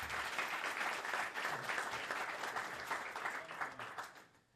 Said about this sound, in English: Please, a round of applause for Carlos.